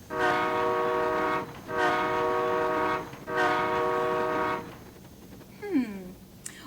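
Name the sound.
train horn three short blasts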